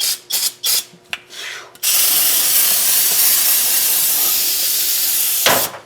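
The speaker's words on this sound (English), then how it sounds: "This is real gum out. Oh, wow. Carburetor cleaner." Gumout carburetor cleaner sprays from an aerosol can in a few short, loud hissing bursts, then one long continuous blast lasting several seconds, close and harsh, followed by a final brief puff.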